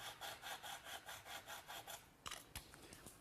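Handsaw trimming the protruding end of a step dowel flush on a wooden clock case, with about ten quiet, rhythmic back-and-forth strokes and then a few sharp snaps as the piece breaks free.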